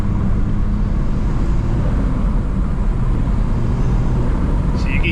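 BMW 440i with an aftermarket intake and turbo inlet at quarter throttle, giving a steady, loud, low engine drone with intake rush that holds for the whole stretch, with a brief higher chirp near the end.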